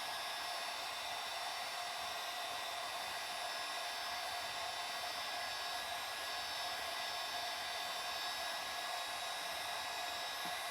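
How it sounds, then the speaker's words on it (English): A heat gun blows steadily and loudly for the whole stretch, an even hissing airflow used to reheat a part during reassembly, with no talk over it. "We're going to go back to our heat gun again."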